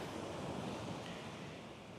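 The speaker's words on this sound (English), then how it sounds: "I am at the beach, not just any beach" Ocean surf washing onto a beach at dawn around five in the morning, a steady broadband roar of breaking waves with some wind buffeting the microphone, continuous and close throughout.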